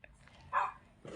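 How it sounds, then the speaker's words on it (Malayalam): A single short dog bark sounds, faint and somewhat distant, amid quiet background noise. "പട്ടി"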